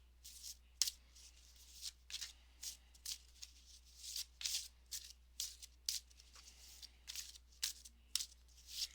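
A brand-new tarot deck being shuffled by hand, its stiff cards riffling in quick, crisp bursts of papery flutter with short pauses between, close and fairly quiet over a low steady hum.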